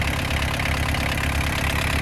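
An original Volkswagen T4 1.9 turbodiesel engine, ABL series, idles steadily up close, a low rhythmic clatter with a constant rumble and no pauses.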